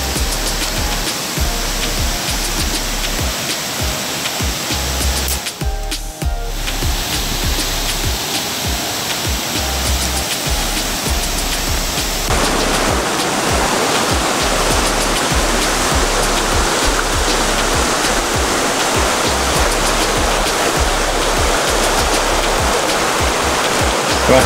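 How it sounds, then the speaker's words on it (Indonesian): The third tier of a strong waterfall roars as a dense, unbroken rush of falling water, loud and close throughout, and grows fuller and broader halfway through, with no voices. "Ini cukup indah airnya tuh, terjunnya deras sekali deh ya."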